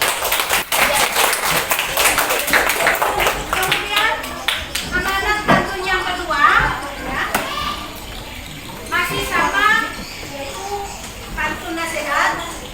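Schoolchildren in a classroom applaud a classmate, starting with bursts of loud clapping that fade into lively children's chatter and playful voices, with a few scattered claps later on.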